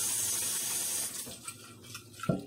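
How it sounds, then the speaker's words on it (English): Tap water runs steadily over beans in a kitchen colander for about a second. The flow then stops, followed by a few light clatters and a clunk as the rinsed beans and colander are shaken. No speech is heard. "So we're just going to rinse these beans real good."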